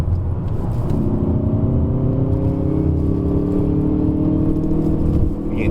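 A Hyundai i30 N drives up the Genting hillclimb in Malaysia, its engine holding a steady, loud hum with rising tonal whine under continuous road rumble, with no talking.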